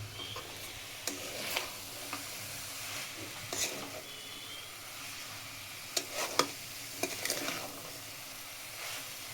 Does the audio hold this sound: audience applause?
no